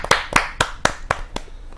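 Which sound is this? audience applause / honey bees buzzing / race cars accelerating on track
audience applause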